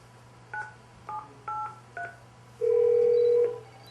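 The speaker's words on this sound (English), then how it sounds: "I'm going to call up my office phone from here" A conference-room phone dials an office line, giving four short touch-tone beeps in an even rhythm followed by one long, louder steady tone, heard clearly over a low constant hum with no talking.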